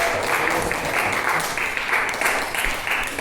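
A classroom of students applauding a student group after a presentation, sustained dense clapping close and loud, steady for the whole stretch.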